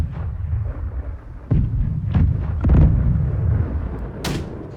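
Cannons fire between ships in a video game naval battle, with several heavy booms landing at irregular intervals over a rumbling background and no voices.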